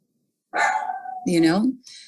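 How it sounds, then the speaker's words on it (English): A dog barks somewhere behind the main sound, its yapping woofs overlapping brief bursts that sound like speech during a council meeting. "Pardon the dog in the background. He barks at flies."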